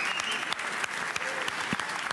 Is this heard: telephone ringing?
no